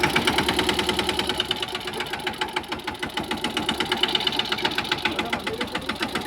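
A diesel tractor engine chugs steadily at idle, a rapid rhythmic knocking throb, close and continuous throughout.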